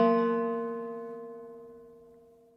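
One plucked guitar string with a small metal object wedged on it gives a metallic, buzzy ring, sounding alone and decaying gradually over a couple of seconds.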